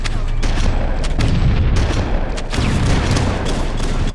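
Heavy gunfire and grenade blasts in a Halo match, a dense, continuous roar of shots and booms throughout, loud and close, with a few sharper impacts standing out.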